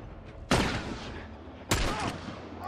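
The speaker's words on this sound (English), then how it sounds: "I shouldn't be spamming my gun like this." Two sharp, loud gunshots about a second apart in The Last of Us, each with a booming decay.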